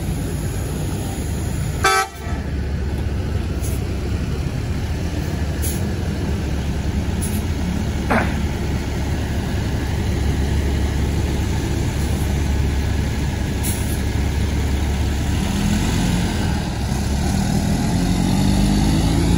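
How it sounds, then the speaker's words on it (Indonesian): A Budiman intercity bus sounds one short horn blast at a bus terminal in Karang Pucung, then its engine drones on loud and close as it pulls away. "Ini Budiman 3E70 Karang Pucung kali terus lanjut berangkat dari terminal bus Karang Pucung."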